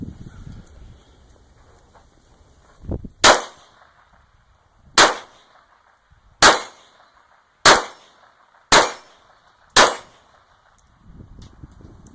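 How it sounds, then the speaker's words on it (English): Six sharp pistol shots from a Ruger SR22 .22 pistol ring out one by one at uneven intervals, each loud report decaying quickly. The first shot is double action and the rest are single action, with no talk between them. "I'll push the safety on, and I'll shoot double action this time, the first shot."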